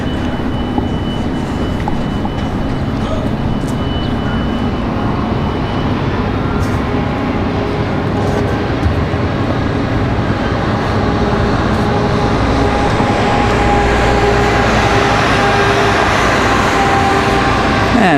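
A Korean Air Boeing 777 at Washington Dulles gives off a loud, steady jet roar that swells slightly near the end, heard continuously from fairly close.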